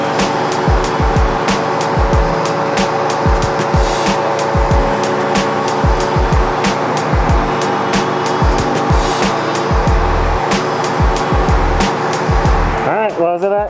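A supercharged V8 drift truck roars loudly up close, with repeated bursts of revving, rapid gear-shift drops and squealing tires, a voice talking underneath, ending in a sharp rising whine.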